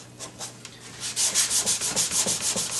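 A sanding sponge rubs along car body seams in paint prep, giving a close, rhythmic series of scratchy strokes that grow louder and quicker after a softer start, with no talk.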